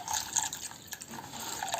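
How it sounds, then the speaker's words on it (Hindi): Water is poured into a container of freshly washed rice, giving a trickling, splashing fill sound that runs steadily with small gurgles, close and moderately loud, with no voices. "इसके बाद इसमें ऐड कर लेंगे हम पानी"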